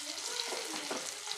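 Garlic fries in a pan for fenugreek sambar, a quiet, steady sizzle with a few soft stirring scrapes, heard alone and close.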